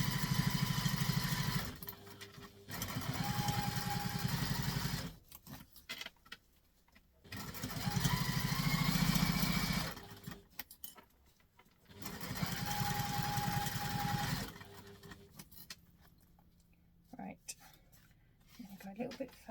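A sewing machine stitching fabric down to the construction line in several bursts of rapid whirring separated by short pauses, with a person talking in between.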